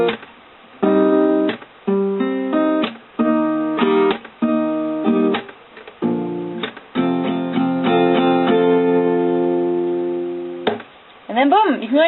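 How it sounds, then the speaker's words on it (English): Acoustic guitar slowly plays the pre-chorus of a song, a series of separate strummed and picked chords with short gaps between them, close and clear with no talking over it. "So the pre-chorus slowed down sounds like this."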